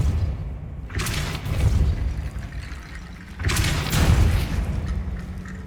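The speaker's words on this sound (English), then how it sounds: "Depulso" In Hogwarts Legacy, the Depulso spell blasts a barricade in the Feldcroft Catacombs, two heavy booming bursts a few seconds apart, each rumbling with crumbling debris and fading into a low roar.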